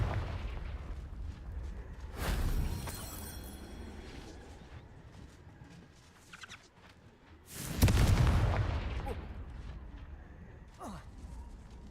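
Two heavy magical blasts from the Confringo fire spell in Hogwarts Legacy, one around two seconds in and a louder one near eight seconds, each a booming burst that rumbles and fades, with a voice talking at times.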